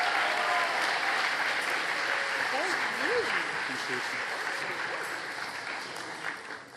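A crowd at an awards ceremony applauds a speaker with steady, dense clapping that slowly tapers toward the end, with cheering voices and whoops rising over it.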